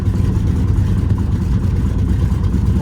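A Cessna 195 aircraft engine runs loud and close just after starting, a dense, rough low rumble that holds steady without speech.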